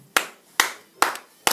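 Hand claps in a dry, rhythmic music hall with no reverberation: four sharp, close claps at an even pace, each cut off quickly, with nothing else heard.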